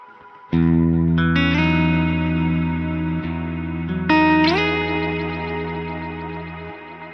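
Sustained guitar chords run through a Strymon BigSky MX pedal with impulse and magneto reverbs chained in series, 2 into 1, giving a lush, washy decay; a few loud chords ring out clearly with no voices.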